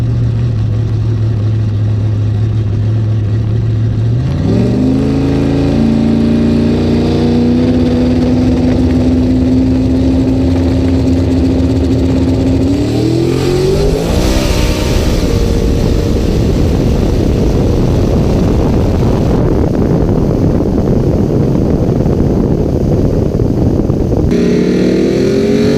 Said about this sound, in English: in this view, you can hear the Mustang